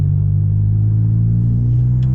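Car with a new exhaust and a 1.2-litre engine idles in a steady deep rumble, close and continuous, with no talk over it.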